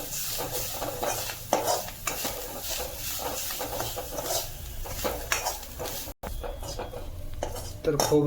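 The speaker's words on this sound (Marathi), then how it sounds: "तर हे आपलं ओल्या नारळाचा खोबरं भाजून घेऊया।" Fresh grated coconut dry-roasting in a pan, stirred with a spoon that scrapes and clinks against the metal in steady strokes over a low sizzle, close and fairly loud, with a brief gap near the end.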